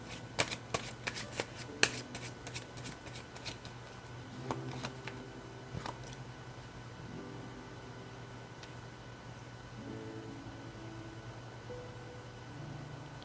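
Tarot cards being shuffled by hand, a run of crisp riffling bursts and snaps over the first six seconds, then quieter card handling and soft rustles, close up with no talking.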